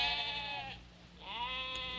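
A sheep bleats twice, close and clear, with a short pause between the calls over quiet background.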